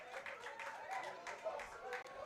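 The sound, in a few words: baseball crowd cheering and clapping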